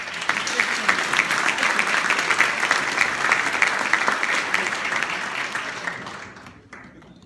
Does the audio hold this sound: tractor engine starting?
no